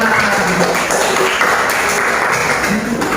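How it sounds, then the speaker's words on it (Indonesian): Fifth-grade class giving a round of applause, a loud, continuous patter of many children's hands clapping at once, sustained without pause and no talking over it. "tepuk tangan untuk kita semua"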